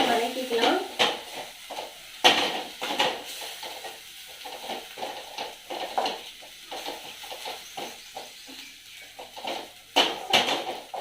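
Drumstick flowers being lightly sautéed in a pan give soft, uneven scraping and stirring sounds, with faint sizzle and occasional clinks of a utensil against the pan, quiet and close throughout.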